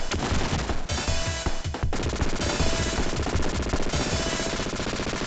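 Triple cannon of the Assault Plane boss in the Sega Mega Drive game Contra: Hard Corps, loud rapid bursts of gunfire with crashing explosions, continuous and close over retro game music.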